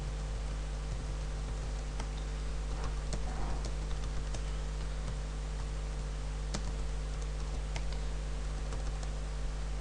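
Quick keystrokes patter on a computer keyboard while a web form is filled in, a run of light, irregular clicks over a constant electrical hum, with no talking.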